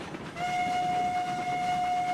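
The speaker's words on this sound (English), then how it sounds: "But yes, I am actually running the train." A steam train in the video game Railroads Online runs at full throttle, its long steady whistle sounding over a continuous rumbling roll of wheels on track.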